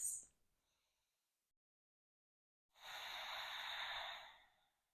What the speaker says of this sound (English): Couple of breaths.